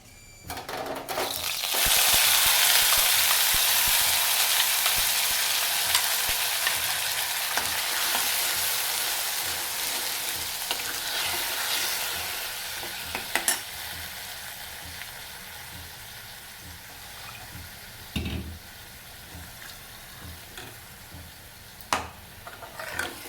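Steady sizzling of five-spice, bay leaf and dried red chillies frying in hot oil, loud at first and gradually settling, with a few scraping stirs and clinks near the end.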